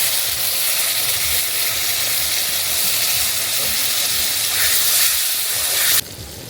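Water poured into hot masala in a pan for a kuche mach (eel) curry hisses and sizzles loudly and steadily up close, then drops off abruptly near the end.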